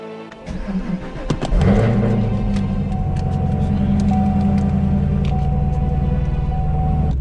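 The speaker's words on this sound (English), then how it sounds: "it is a stick shift and also because it has a supercharged V8" A Chevrolet Camaro ZL1 1LE's supercharged V8 engine starts with a sharp crank and loud roar, then settles into a deep, steady idle burble.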